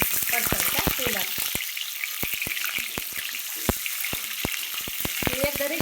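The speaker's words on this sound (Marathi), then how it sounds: "बघू शकता तुम्ही कसं तेलात फ्राय केलंय" Whole eggs frying in hot oil give a loud, continuous sizzle studded with frequent sharp pops and crackles, close and busy throughout.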